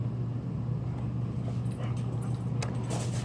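A pet dog whimpers and yips softly in the background indoors, faint intermittent whines over a low steady hum, with a few small clinks nearby.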